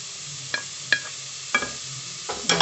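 Fried rice with scrambled egg and chilli being stirred in a pan: a few separate spatula scrapes and knocks against the metal over a faint, low sizzle.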